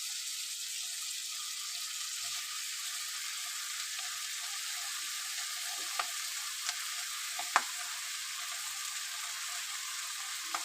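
Chopped jute leaves with prawns fry in a pan, a steady close sizzle with a few faint clicks of stirring, no talking.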